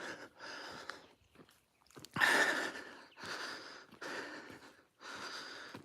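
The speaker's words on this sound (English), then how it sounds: "Starting to breathe harder." A man breathes heavily while walking uphill, each loud, rough exhale and inhale coming in repeated surges separated by short pauses, close to the microphone.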